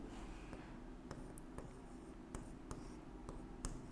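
Pen or pencil writing by hand on paper during a Hindi lesson: soft, steady scratching with a few sharper taps and clicks scattered through, quiet and close, with no talking.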